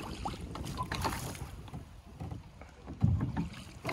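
A child rows a small rowboat with oars on open water, giving soft irregular splashes and creaks of the oars with steady wind noise and a louder bump near the end.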